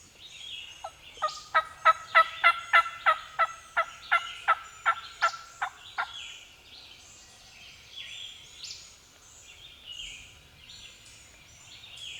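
A wild turkey gobbles during a spring hunt in Virginia, letting out a rapid run of loud, rhythmic gobbles that trail off, followed by softer, more distant calls from other birds.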